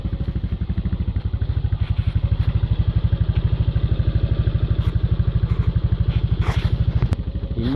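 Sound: Honda SH 300i scooter engine idling after oil change

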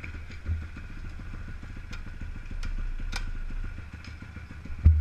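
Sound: pocket bike engine idling

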